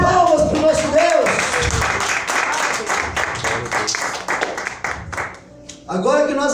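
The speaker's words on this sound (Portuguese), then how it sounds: "Dê uma salva de palmas para o nosso Deus." Church congregation applauding during a sermon, a dense wash of clapping with cheers and shouting voices over it, fading near the end before a voice speaks again.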